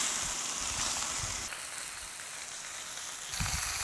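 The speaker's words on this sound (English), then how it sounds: "Stir fry, not deep fry, stir fry." Fish stir-frying in a pan after a sprinkling of salt and pepper, a steady close sizzle with soft rhythmic stirring scrapes and no talking.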